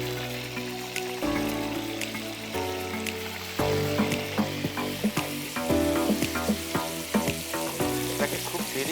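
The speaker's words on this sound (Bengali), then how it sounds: "এটাকে খুব দেরি হালকা 2 মিনিটের জন্য ফ্রাই করে আমরা বের করে নেব।" Marinated crab fries in hot oil with a loud, continuous sizzle. Intermittent clinks and scrapes of stirring in the pan recur throughout, with no talking.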